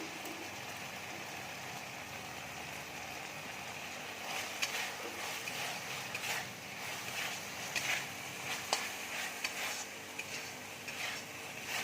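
Minced meat keema with tomato sauce and Kashmiri chili powder fries in a pan, giving a continuous sizzle. From midway, repeated stirring scrapes and clacks join in, close against a steady background hum.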